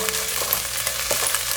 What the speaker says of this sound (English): let the onions cook for about 2 minutes